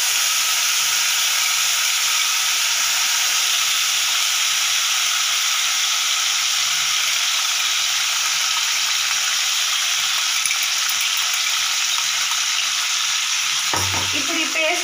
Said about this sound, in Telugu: ఇప్పుడు ఈ పేస్ట్ కూడా బాగా నూనెలో వేగాలండి.